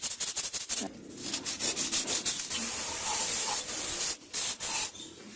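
Hand sanding a Nissan Sentra QG engine intake manifold with 1500 grit sandpaper, steady rapid back-and-forth rubbing strokes with a few brief pauses, close and continuous, no voices.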